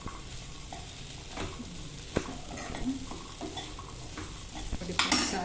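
Legumes for usali fry and get stirred in a pan: a soft sizzle runs under irregular spoon scrapes and knocks against the metal, ending in a louder clatter. No speech.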